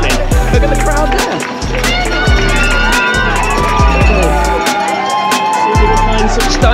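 A crowd cheers and claps along the course of a Boston 5K running race, loud and close, with rhythmic thumping footsteps and bursts of shouting throughout.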